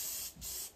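Lysol disinfectant spray hisses from an aerosol can in a couple of quick, quiet bursts, close by, with nothing else heard.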